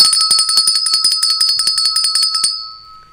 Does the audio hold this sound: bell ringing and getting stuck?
yes